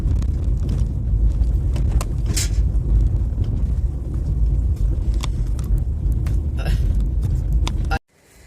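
A car drives along a dirt road toward a pine forest, heard from inside as a steady loud low rumble with bumps and rattles, cutting off abruptly near the end.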